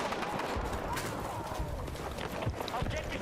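Rapid AK-205 carbine fire in the Battlefield 6 shooter game gives a dense run of loud, close bursts with some dull thuds mixed in, over a busy battle background.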